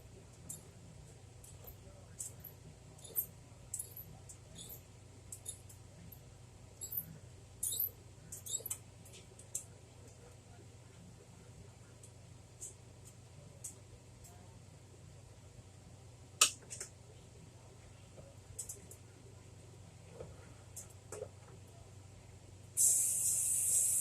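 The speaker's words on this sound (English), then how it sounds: "we're going to open our Libby's Country Sausage Gravy" A can of Libby's Country Sausage Gravy is opened by hand in a home kitchen: scattered small squeaky clicks and metallic scrapes, close and fairly quiet, ending in a brief louder hissing burst.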